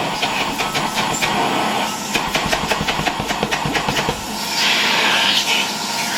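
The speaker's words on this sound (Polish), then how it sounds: "W tej chwili odkurzacz powinien właściwie działać z pełną mocą." A Czechoslovak Tiger 808 vacuum cleaner runs at full power on about 220 V, giving a loud steady whirring drone with rhythmic pulsing and a rising airy rush toward the end, with no one speaking.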